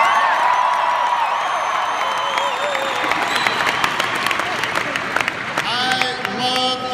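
A large university crowd at a presidential speech claps and cheers after an introduction, a loud, sustained roar of applause with whoops and crowd babble, before a voice starts speaking over it near the end.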